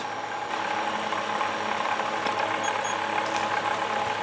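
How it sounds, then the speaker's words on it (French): A small electric compressor drawing about 130 watts runs with a steady, even mechanical hum and faint ticking, close and continuous with no voices. "J'allume le compresseur."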